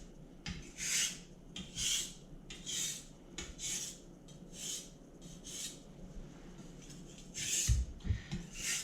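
Knife blade drawn repeatedly across a 1000 grit whetstone, a steady series of close, gritty rasping strokes in an even rhythm, roughly one pass per second, with no talking.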